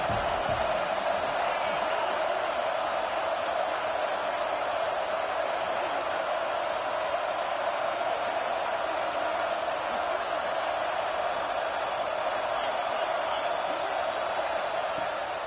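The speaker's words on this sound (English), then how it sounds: "The Tide crowd rolling noise down on the Saban field on third down" A big Alabama football stadium crowd roars on third down in a constant, loud wash of noise that holds steady without a break.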